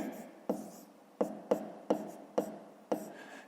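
Chalk or marker taps and strokes on a board as a fifth-grade math exercise is written out, about eight sharp, irregularly spaced hits, each with a short scratchy tail, close by and moderately quiet.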